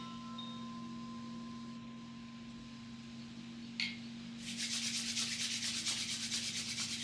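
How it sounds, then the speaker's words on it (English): Palms of two hands rub briskly together to make warmth, a close, steady, soft rhythmic swishing that starts partway through after quiet ambience with a low background hum. "gently bring the palms of your hands together and rubbing them to generate heat"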